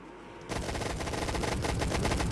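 Dual guns in a Roblox game open up suddenly after a brief quiet moment, a loud rapid stream of gunfire that continues without pause, with no voices.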